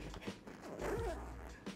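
A guitar gig bag is unzipped, giving a quiet, rasping zipper pull that runs for about a second alongside faint handling rustles and soft thumps.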